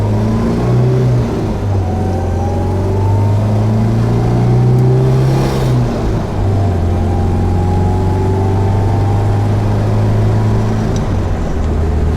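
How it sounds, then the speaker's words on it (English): A 1971 MG B roadster with a regular four-speed manual gearbox and no overdrive drives and accelerates, its engine note rising through the gears with audible shifts, loud and close with road noise throughout. "Car shifts well, transmission is nice."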